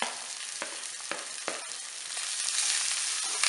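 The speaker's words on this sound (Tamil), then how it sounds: "கருவேப்பிலை எல்லாம் நல்லா வதக்கிக்கலாம்." Onion, ginger, green chilli and curry leaves sauté in hot oil with popped mustard seeds for rava paniyaram, a steady close sizzle with a few stirring scrapes, growing slightly louder, with no talk.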